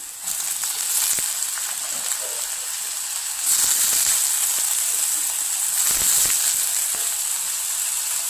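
Onion and tomato fry in a pan with a loud, steady sizzle and hiss that swells at about the midpoint and keeps going without a break.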